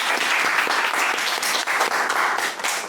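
A room full of people applauds at an academic lecture session, dense rapid clapping that stays steady and loud for the whole stretch, with no speech over it.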